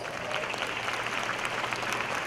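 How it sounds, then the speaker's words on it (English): Convocation audience applauding students, a steady, full wash of many hands clapping at moderate distance, with no talk over it. "So give our students a round of applause."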